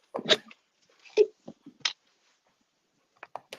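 A dog gives a few short, snuffly barks or huffs indoors, close to the mic, in brief separate bursts with quiet gaps between them.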